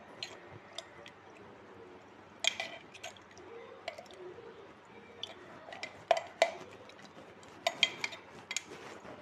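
Salted mango pickle being stirred in vinegar brine produces wet squelching and sloshing with scattered clinks against the container, irregular and close, over a quiet background.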